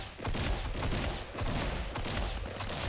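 Sustained rapid gunfire from a Roblox Fortblox battle royale match, a dense continuous volley of shots with brief gaps, loud and close, with no talking.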